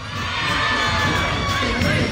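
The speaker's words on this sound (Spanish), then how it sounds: "Vamos a ver, gritos uno, y aplausos." Carnival crowd in Tegucigalpa cheering and shouting with applause, a dense, steady roar of many voices including children's shouts, sustained and loud throughout.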